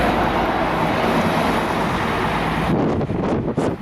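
Strong wind gusting outside the Hungarian Parliament beside the Danube in Budapest, a loud steady roar buffeting the microphone, easing near the end into a few separate gusts.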